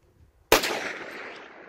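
A single sharp gunshot crack from plinking at a target outdoors, loud and sudden, followed by a short decaying echo.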